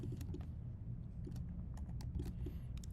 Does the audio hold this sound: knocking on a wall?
no